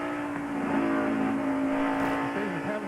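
A 1992 stock car (NASCAR) engine roars loudly at the Transouth 500 as the driver, fighting a pushing problem off turn 4, gets in and out of the throttle, the pitch dipping and swelling in short surges.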